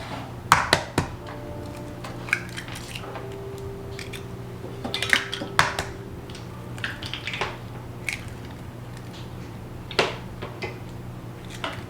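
Three eggs are cracked into pumpkin bread batter in a quiet kitchen, giving sharp taps and clicks against a bowl spread over several seconds, with faint shell and utensil clatter and a low steady hum underneath.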